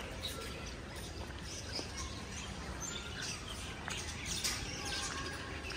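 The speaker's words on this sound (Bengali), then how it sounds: "এখানে কিছু পাখি দেখা যাচ্ছে, সেই সাথে মুরগি, মোরগ অ্যান্ড মুরগি।" Birds chirp and tweet in a small children's park, with faint calls scattered over a steady wash of outdoor background noise.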